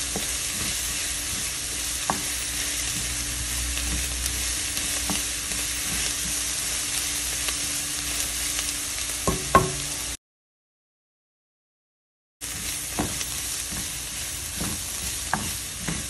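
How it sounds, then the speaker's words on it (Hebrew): Garlic frying in a pan for red lentil soup makes a continuous, moderate sizzle with scattered stirring clicks and scrapes, broken by a short silent gap before the frying resumes; no one speaks. "אני מוסיפה את השום,"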